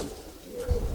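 A pair of red Palla-line pigeons cooing, with one short low coo rising out of a noisy, close background.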